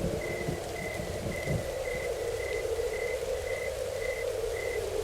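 Steady light rain hisses softly in the background while a repeated high chirp pulses at a regular rhythm.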